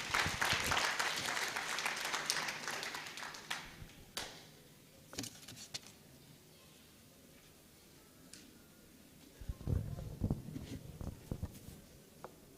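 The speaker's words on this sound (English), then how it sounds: "I expected a bigger hand clap." Audience at a Uganda diaspora convention claps after a speech: a short burst of scattered applause that thins out within about three seconds, followed by a quiet hall with occasional knocks and a few light claps.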